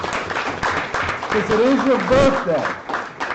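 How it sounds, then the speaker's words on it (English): Applause from an audience at a comedy show's anniversary event: steady clapping fills the whole stretch at moderate loudness, with someone talking over it the entire time. "Everybody, give a round of applause."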